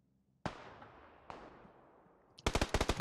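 Two sharp gunshots with ringing decay, then a rapid burst of automatic fire in the video game PUBG: Battlegrounds, crisp and synthetic-sounding, with no talking.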